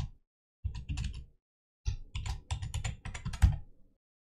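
Typing on a computer keyboard to enter passwords: a short click, then two quick bursts of rapid keystrokes separated by pauses, the last ending in a firmer key press, close and clear in an otherwise quiet room.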